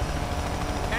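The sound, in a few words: police helicopter in video game Need For Speed Payback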